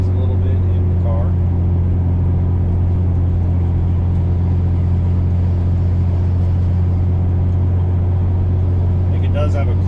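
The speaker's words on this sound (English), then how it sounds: "Exhaust noise a little bit in the car." Steady interior rumble of a 1965 Corvair Monza's exhaust while driving, a continuous low drone throughout with faint talking briefly at the start and end.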